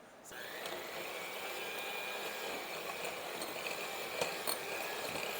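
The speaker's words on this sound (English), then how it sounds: "We're going to beat this up with our mixer." Electric mixer beating a stick of butter in a bowl, a steady whirring drone that starts abruptly and runs on, faint, with light clinks near the end.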